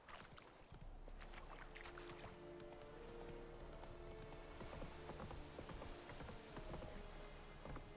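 Horse hooves galloping in the video game The Witcher 3, a steady rapid clip-clop beat under game ambience and music, moderately close and continuous for several seconds.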